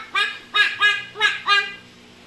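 A voice imitates a duck, giving five quick nasal quacks in a two-then-three rhythm, close and clear with nothing else around.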